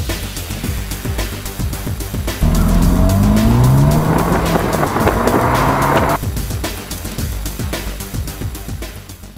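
A car bought from an auction yard runs roughly, its engine chugging unevenly before a loud rev that rises and holds for several seconds, then drops back to a ragged idle.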